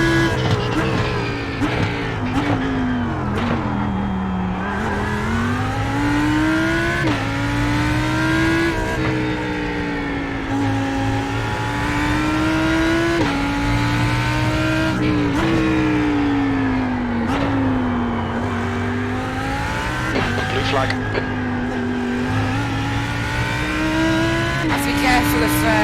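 GT3 race car engines roar continuously in a multiclass IMSA GTD race at the Nurburgring GP in the iRacing sim, revving up and down through the gears with tire squeal, while someone talks over the sound throughout.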